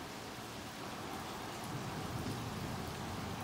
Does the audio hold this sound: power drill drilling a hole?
no